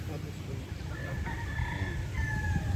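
A Boston Black gamefowl rooster crows at a game farm, its drawn-out call fairly faint and distant against steady background noise, with other fowl clucking and a bit of talk nearby.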